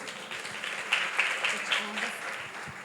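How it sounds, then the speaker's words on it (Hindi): Moderate applause from an audience after a short play performed by young girls at a religious festival gathering, steady clapping with a few sharper peaks, fairly quiet and distant. "एक बार तालियां हो जाए।"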